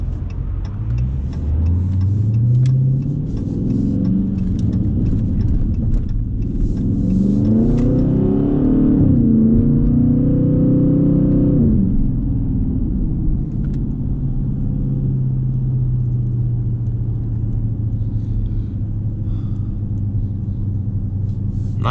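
A Dodge Scat Pack revs and accelerates hard on a night drive, the engine note rising in a loud climbing roar mid-clip and then settling into a steady cruising rumble.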